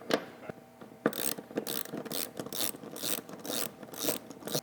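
A ratchet wrench takes the bolts out of a camper jack cover plate. It makes a steady run of close, rapid clicking strokes with a rhythmic back-and-forth pattern and no voices.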